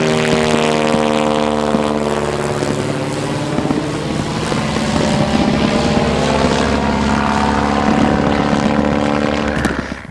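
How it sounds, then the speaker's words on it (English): WW1 biplanes, a German Halberstadt chasing a British Bristol, drone overhead in a reenactment, their propeller engines producing a loud, wavering buzz with shifting pitch as the aircraft pass nearby. "Halberstadt doggedly chases the Bristol and eventually forces the British aircraft to run for home."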